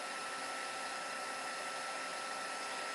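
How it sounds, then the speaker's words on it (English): Heat gun blowing for heat embossing powder, a steady, even airflow roar with constant hiss that holds unchanged throughout, close and alone with no talking. "before I start heat embossing"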